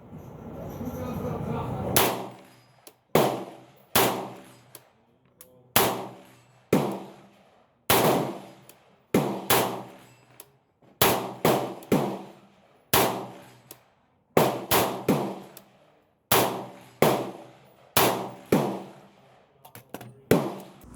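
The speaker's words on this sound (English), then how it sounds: "I just kept shooting at some steel" Sharp rifle shots from a 300 Blackout, each followed by a ringing ping off steel targets, fire in a steady string of about fifteen close, loud reports at roughly one-second intervals, with no talking.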